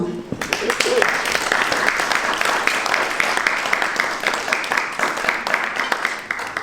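Applause breaks out for vice-president Claire Wana at the GIFA d'Or 2025 ceremony in the French Senate, a crowd's brisk, sustained clapping that starts right after a short spoken line and keeps an even intensity.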